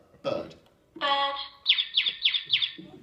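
Talking toy's button sets off an electronic bird chirp: a short call, then a longer tone and a quick run of four repeated chirps, fairly close and clear.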